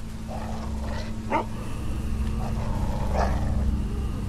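A dog growls low and continuous with a few short barks and yips in a game scene, near and moderately loud over a steady background hum.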